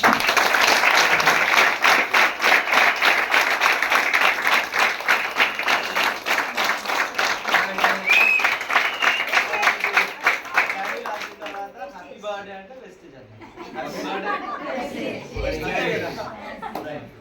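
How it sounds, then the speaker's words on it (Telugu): Loud, sustained applause from an audience at a 21st anniversary celebration in Warangal, steady clapping for about eleven seconds before fading into chatter and light laughter. "అందరం మరొకసారి గట్టిగా క్లాప్స్ కూడా"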